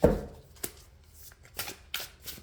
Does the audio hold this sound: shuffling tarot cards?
yes